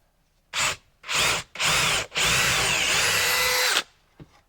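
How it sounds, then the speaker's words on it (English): A power drill whirs in three short bursts, then runs steadily for over a second before stopping, close and loud, drilling a pilot hole into a wall stud for a 1/4-inch lag screw. "I'm gonna drill a hole right here"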